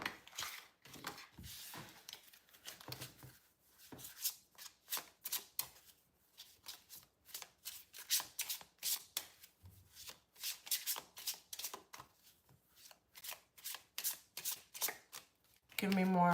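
A deck of playing cards is shuffled over and over at close range, with crisp flurries of riffling and short pauses between them. A voice is occasionally heard.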